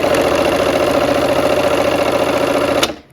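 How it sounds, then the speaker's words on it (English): A sewing machine stitching fabric pieces together, a loud, steady mechanical whir running without pause for about three seconds before stopping abruptly. "we're gonna sew these pieces together"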